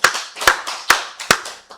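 A church congregation at a Wednesday worship service claps in glory to God, striking about five sharp, loud claps in an even rhythm with short ringing gaps between them.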